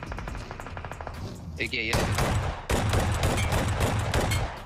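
Gunfire crackles in an online shooter game, with rapid bursts and heavier shotgun-like blasts layered densely and loudly. Excited male speech from a game reaction stream runs over the shots.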